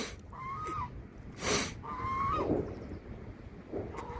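Several loud nasal honks from ducks call out close by, in short bursts with pauses between, beside the flooded Saône river banks.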